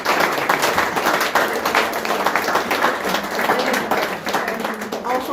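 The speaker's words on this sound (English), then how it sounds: "can we give the candidates one more round of applause for each one of them?" A debate audience at a school district board candidate event applauds the candidates, a dense, sustained round of clapping from the room lasting several seconds.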